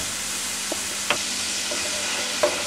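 Squid sautés in a hot pan for seafood tagliatelle, a loud, steady hiss of frying with a few faint clinks and stirs scattered across it, close up and without talk.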